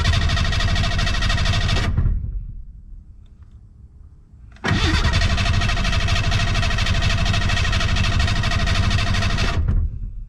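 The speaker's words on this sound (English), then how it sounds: "Definitely cranks over good with that new starter though." A Ford Bronco II's engine cranks over hard and loud on a new starter, in two long sustained bursts separated by a brief quieter pause, with no catch or start.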